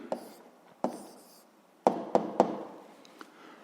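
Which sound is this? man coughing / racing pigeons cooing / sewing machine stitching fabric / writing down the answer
writing down the answer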